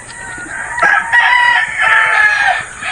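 Roosters crowing at a chicken farm, loud and close, with overlapping drawn-out calls from more than one bird over about three seconds.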